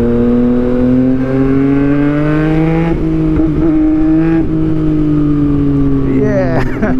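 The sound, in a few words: Yamaha MT-09 motorcycle riding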